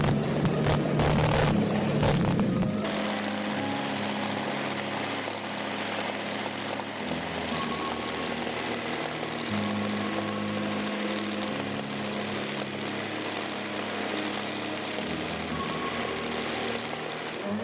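A Rolls-Royce Merlin aircraft engine runs with a loud, steady roar inside a workshop, its exhaust note holding constant with slight surges in pitch after a noisy rough start.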